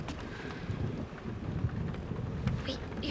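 A thunderstorm sound effect in a spooky story gives a short burst of rumbling thunder mixed with falling rain, moderately loud and continuous.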